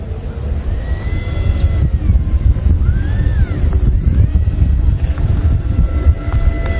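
An airplane flying overhead outdoors, a steady droning engine rumble mixed with gusty wind buffeting the microphone.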